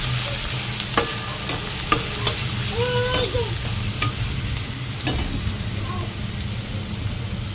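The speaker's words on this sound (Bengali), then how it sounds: "ফার্স্টে রসুন কুচিটা দিয়ে দেব, কাঁচা লঙ্কাটাও দিয়ে দেব।" Chopped garlic and green chilli sizzle steadily in hot oil in a pan, with a handful of sharp clicks and scrapes from stirring rising over the constant frying hiss.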